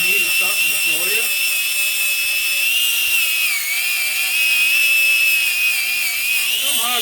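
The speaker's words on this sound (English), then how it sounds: "You don't normally grind the welds like this, but I needed something to show you." A Bosch 1375A 4-1/2 inch small angle grinder grinds down welds with a steady, loud high-pitched whine that dips slightly under load and runs continuously without talk.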